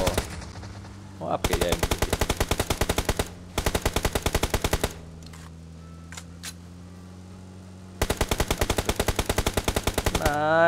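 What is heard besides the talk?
gunfire in a video game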